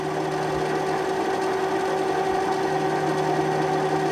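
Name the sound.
Sewer Slinger 16 drain cleaning machine running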